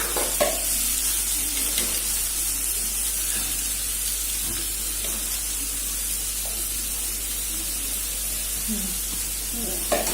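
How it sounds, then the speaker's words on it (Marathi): Chopped onion and chilli frying in hot oil, a broad, steady hissing sizzle held close for the whole stretch with occasional faint stirring knocks and a low hum beneath. "तेल गरम झाल्यावर आपण कांदा मिरची टाकू."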